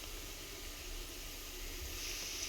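A steady, broad hiss of wheat flour gulab jamun balls frying in oil over a low flame carries on evenly, close by and uninterrupted, with no voices.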